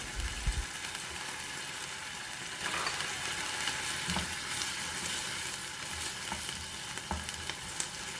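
Pork belly being stir-fried with shrimp paste in a rather dry pan, for a southern Thai dish with sator beans; a continuous close sizzle with occasional soft spatula scrapes and clicks, fairly quiet.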